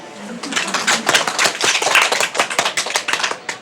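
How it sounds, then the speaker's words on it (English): Applause at a photography posing lecture, a small group clapping in quick irregular claps, close and crisp, building then tapering over a few seconds. "Please also give yourself a big welcome applause for yourself."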